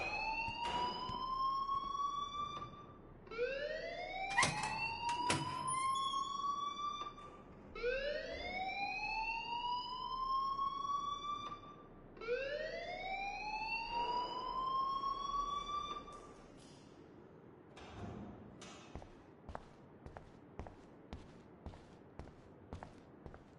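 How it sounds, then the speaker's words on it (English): An alarm rings in the video game Life is Strange, a loud wailing siren sweeping upward in repeated cycles, then breaking into a series of short clipped bursts as it cuts out. "please turn off that alarm since that's your job"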